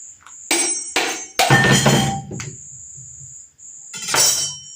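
Several sharp, loud whacks crack a whole coconut held and rotated in the hand while making homemade coconut milk, coming in bursts with pauses between them over a steady high whine.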